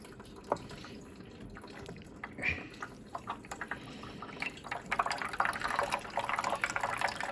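Water pours steadily onto a steepened stream table in a classroom lab, a trickling, dripping flow that grows busier and louder toward the end.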